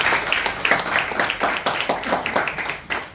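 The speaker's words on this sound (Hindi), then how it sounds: "प्लीज जोरदार तालियों से" Applause from an audience welcoming a speaker at an Ayurveda holistic health business presentation, a steady dense patter of many hands clapping throughout, fairly close and loud.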